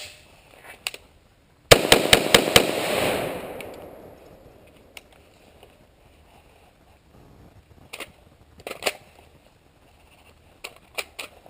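An older-generation windowed P-Mag seats into a Beretta ARX100 rifle with a quick cluster of sharp, close metallic-polymer clicks, followed later by a few lighter handling clicks and knocks.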